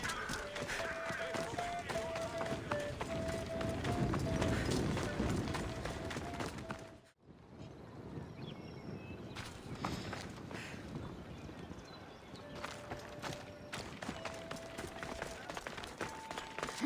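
Horse galloping in Assassin's Creed Odyssey, a rapid continuous clip-clop of hooves with a brief drop-out midway, heard under game sounds and occasional speech.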